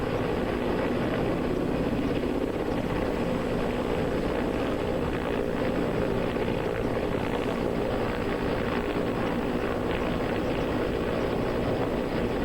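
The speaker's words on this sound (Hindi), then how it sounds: "फजाइया हेलीकॉप्टर लगातार कोशिश में है कि इन दोनों अफराद को बचा लिया जाए" An Indian Air Force rescue helicopter works over the flooded Tawi river in Jammu. Its steady, broadband rotor-and-engine roar holds at a constant loudness throughout, mixed with the rush of fast water and with no one talking.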